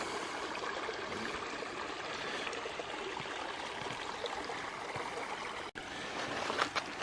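Small sliding cascades on a forest creek in Bankhead National Forest, Alabama, give a steady, close rushing wash of water that stays even throughout, with one brief dip near the end.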